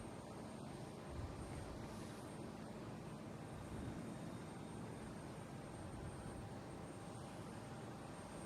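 An American airliner from Dallas Fort Worth turning onto final approach to Boston Logan airport makes a faint, steady, distant engine drone, with no talk.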